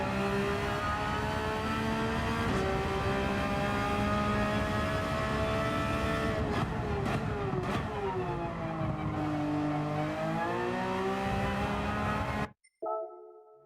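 A race car engine in Gran Turismo 7 drones loud and continuous, its pitch rising and falling through revs and gear shifts with a brief dip near the end and no talk.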